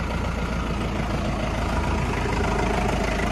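A tractor's diesel engine idles steadily and loudly at close range, a low rumbling drone that holds constant throughout with no talking.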